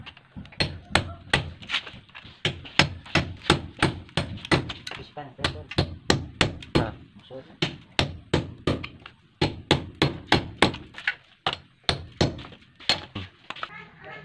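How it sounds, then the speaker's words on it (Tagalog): Repeated sharp metallic strikes of a hammer on a chisel chipping concrete for a utility box, a steady rhythm of loud close blows with brief pauses between bursts. "kailangan natin ng silsil at saka martilyo"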